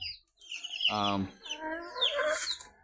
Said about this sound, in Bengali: এগুলো হচ্ছে আমার মুরগি এগুলো হচ্ছে অরিজিনাল দেশি মুরগি